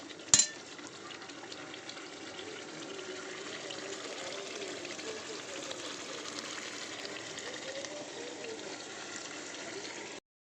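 Spice paste sizzling and frying in oil in a pan, a steady hiss of moderate loudness that runs evenly for about ten seconds after a brief clatter at the start, with no talk over it.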